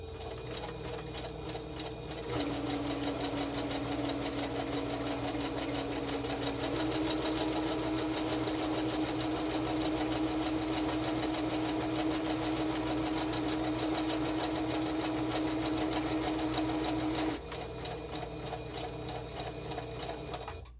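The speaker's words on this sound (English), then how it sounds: "I'm going to quickly sew a zigzag stitch around the whole thing." A sewing machine stitches a zigzag around a journal page in one long continuous run, a steady close mechanical whir that starts and stops cleanly with no talking.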